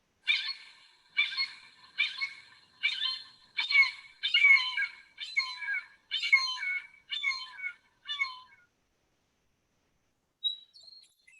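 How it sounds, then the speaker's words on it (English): A red-shouldered hawk calls in a series of about ten loud, evenly spaced screaming notes over eight seconds, then falls silent before two faint short notes near the end. "the first call is a red-shouldered hawk"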